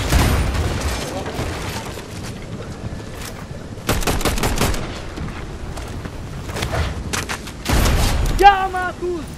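Gunfire in the video game Fortnite: repeated bursts of rapid shots in clusters throughout, loud and close, with people talking over the action.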